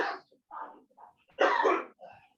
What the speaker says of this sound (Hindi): खांसी किसको हो गई भाई